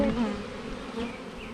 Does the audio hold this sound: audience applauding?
no